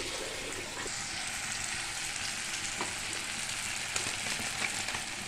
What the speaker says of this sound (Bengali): তারপরে কেটে রাখা বেগুন দিয়ে দেবো।